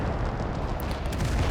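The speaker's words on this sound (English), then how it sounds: "Nice rocket strikes. Beautiful. Very accurate." Rocket strikes exploding in the video game Total Conflict: Resistance, a dense, continuous roar of overlapping blasts and rumble, loud and close, with no voices.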